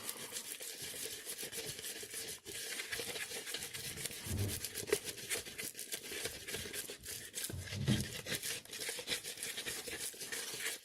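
Two-part plastic repair compound is stirred and worked by hand, giving a continuous soft scraping and rubbing sound at close range that keeps a steady, uneven rhythm, with faint bumps now and then.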